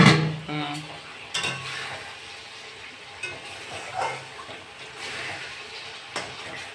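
Chicken cooking with spices for biryani in a pot, soft sizzling under occasional scrapes and clinks of a spoon stirring against the metal, fairly quiet and steady.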